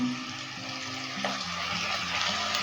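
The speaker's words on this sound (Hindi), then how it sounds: "और इसकी आग मैं बंद कर देती हूँ और इसे मिक्स करूँगी" Vegetables and chicken sizzle steadily in a hot pan while being stirred, a continuous close frying hiss with soft scraping throughout.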